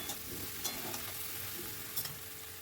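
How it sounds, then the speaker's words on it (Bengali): A spoon quietly stirs curry in a pan with a soft, steady sizzle and a few faint scraping strokes, with no talking. "মিনিট 6 পরে আবার একটু সব কিছু মিশিয়ে নিচ্ছি।"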